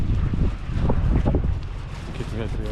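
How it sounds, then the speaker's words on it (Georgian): Strong Wyoming wind buffets a phone microphone with loud, continuous low rumbling, while someone speaks underneath the wind noise. "იქნება ტელეფონი ვერ იღებს ხოლმე ისეთ ქარში,"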